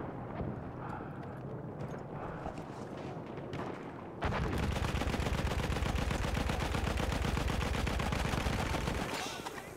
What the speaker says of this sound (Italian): in compenso si ricarica abbastanza in fretta per essere una mitragliatrice pesante